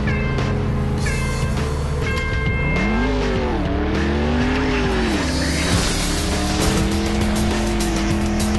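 A car drives in the video game Clutch with a loud, constant engine roar that rises and falls in pitch, with tire squeals and bright electronic chimes early on.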